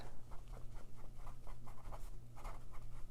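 A pen writes a label on lined paper, giving quiet, close scratching strokes in quick irregular bursts with short pauses between words.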